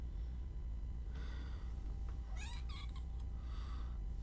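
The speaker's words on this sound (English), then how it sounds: "now they're meowing" House cats meowing indoors: faint cries early on, then a clear pair of rising meows in the middle and another later, all over a steady low hum with no talk.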